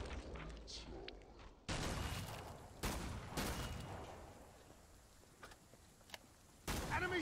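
Sharpshooter precision rifle shots in Killing Floor 2 crack out one at a time in a spaced sequence, each loud, sharp report trailing off into a reverberant tail.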